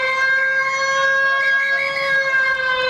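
Full-time siren sounding at a junior rugby field in Logan, a steady, loud multi-tone wail holding continuously from start to end with no talk over it.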